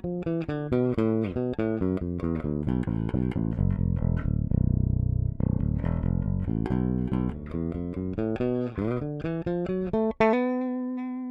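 Bass guitar played through its bridge pickup, a busy run of plucked notes with a low sustained section in the middle, ending on a ringing harmonic.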